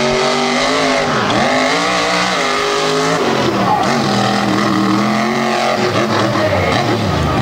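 Team Scream race truck 'Rage' roars down a drag strip at night, its engine blaring loud and continuous with rising and falling pitch sweeps throughout.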